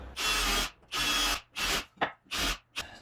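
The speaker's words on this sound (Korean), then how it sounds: "415짜리에다 구멍을 싹 뚫어주죠" Power drill boring holes through wooden chair pieces, five separate bursts of steady whirring bite, each lasting about half a second with short gaps, close and loud with no talking.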